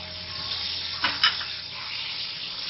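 Chicken frying in a pan with black pepper, garlic powder and salt, a steady low sizzle and hiss throughout with a couple of brief louder crackles near the middle.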